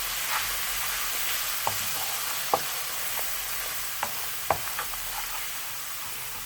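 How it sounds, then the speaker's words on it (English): Steady frying sizzle of spices for Madras curry paste in a pan at moderate heat, with a few sharp clicks and taps of a spoon stirring now and then; no voices. "We just want to cook those spices out on a nice sizzle"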